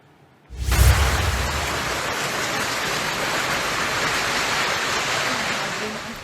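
Heavy typhoon rain and strong wind during Typhoon Aghon in barangay Maasin, Leyte, starting abruptly with a thump, then a steady loud roar of downpour and gusts filling the whole stretch.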